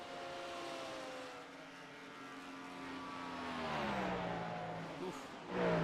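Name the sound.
Cadillac GTP race car engine down straightaway, iRacing video game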